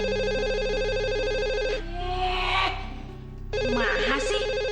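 A telephone rings at midnight, loud and close, with a repeating electronic ringtone in two long bursts separated by a short pause.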